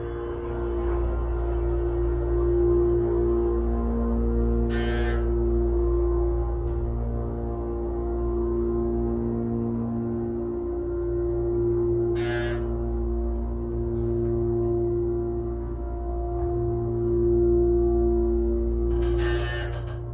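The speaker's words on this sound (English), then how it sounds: "this motor, let's listen to this epic motor" Excelsior hydraulic elevator motor at 910 Franklin Avenue runs with a steady, loud low hum and drone for the whole stretch. A few brief sharp clicks or clacks rise above it at intervals.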